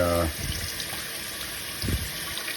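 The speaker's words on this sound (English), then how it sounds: "I find it's good to rinse this part down" Tap water runs steadily into a sink while the grip section of a Pilot Custom 823 fountain pen is rinsed clean of ink, a soft continuous splash with a brief louder burst near the end.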